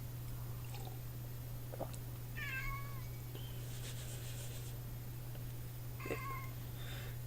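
A cat meows twice, fairly faint over a steady low hum, with a soft high chirp between the calls.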